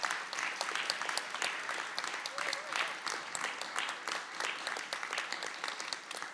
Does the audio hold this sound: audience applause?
yes